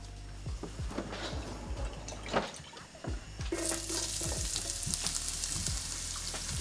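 Thinly sliced onions frying in olive oil, a steady crackling sizzle with occasional stirring scrapes and a brighter, louder hiss swelling in partway through, close by and without talk.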